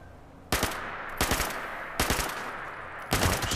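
Gunfire from the video game Fallout 76 as rotten ghouls are shot, four loud, sharp bursts of rapid shots spaced about a second apart over a low background.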